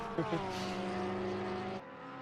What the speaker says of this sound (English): the cars going vroom vroom